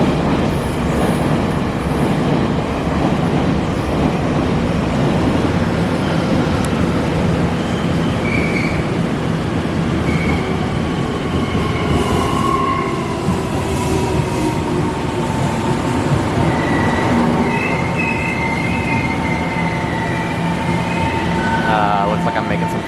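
Taipei metro train standing at a platform, a steady loud rumble of wheels and motors with faint high whines and squeals drifting in and out.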